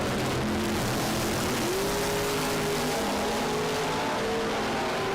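A Willys drag racing car accelerates hard down the strip at Las Vegas Motor Speedway, its engine a loud, continuous roar that climbs in pitch as it pulls away.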